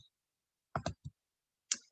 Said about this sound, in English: if I just select that cell and click it with my mouse